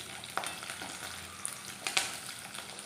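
Green chillies and curry leaves dropped into hot deep-frying oil for beef dry fry crackle with a dense, even sizzle, a few sharp pops standing out close by.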